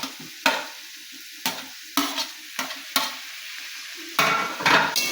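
Tomatoes frying in a hot pan with onions for chicken macaroni, sizzling steadily while a spoon stirs and scrapes in repeated sharp bursts, close and clear with no talk.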